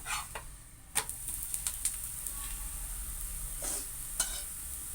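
A chapathi frying in a little oil on a hot pan, steady sizzle under several sharp spatula taps and scrapes spaced irregularly, close and fairly quiet.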